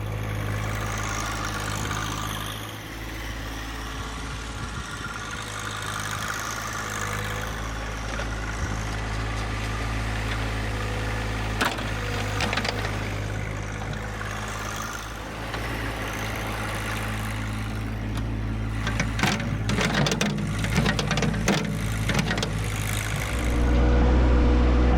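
A John Deere 1025R compact tractor engine running steadily while clearing heavy snow, a continuous low diesel drone close by with occasional clanks and scraping, growing louder toward the end.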